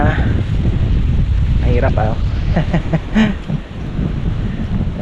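Strong wind gusts roar steadily against the microphone outdoors near banana plants, a loud broadband rush persisting throughout while someone speaks briefly.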